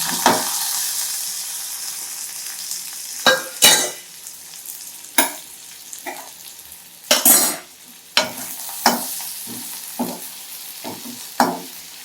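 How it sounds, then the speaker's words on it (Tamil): Grated coconut roasting in sesame oil in a pan, a loud sizzle broken by repeated scraping stirs of a spatula at irregular intervals, close and without talk. "தேங்காய் எல்லாத்தையுமே வறுத்துருங்க."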